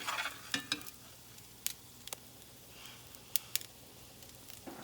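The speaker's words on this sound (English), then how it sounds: "we're just going to give that a mix and let that start cooking that flour down" Flour and fat for a homemade cheese sauce cooking in a pan while being stirred, giving a faint, steady sizzle broken by a few sharp scraping clicks of the spoon against the pan, with no talking.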